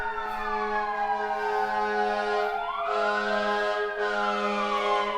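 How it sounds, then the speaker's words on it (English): Wailing sirens from passing fire trucks, an ambulance and police cars, several overlapping tones rising and falling steadily, loud and continuous with no voices. "2 or 3 fire trucks, an ambulance, and some cops go by, all with the sirens screaming"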